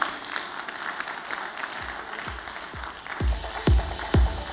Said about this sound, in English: Please give a huge round of applause for Sumit Siktia.